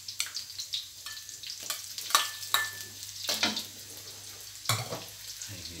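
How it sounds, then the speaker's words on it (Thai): Ginger stir-fried in a hot pan for baked prawns with glass noodles: a steady close sizzle broken by irregular scraping strokes of the spatula, with no talking. "เราขิงลงไปผัดก่อนนะครับ"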